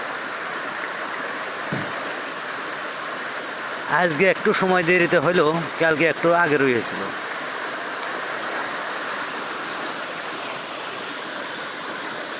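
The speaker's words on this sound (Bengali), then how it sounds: "গতকালকের মতো আজও বৃষ্টি হইতাছে।" Heavy rain pours down steadily, a dense continuous wash of noise from start to end, with someone talking briefly over it in the middle.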